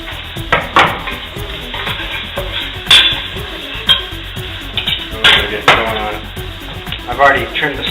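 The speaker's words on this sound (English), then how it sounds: "Let the onion sweat a little bit." Garlic and onion sautéing in butter in a pan for mushroom risotto, a close sizzle broken by irregular stirring scrapes and utensil knocks, fairly loud.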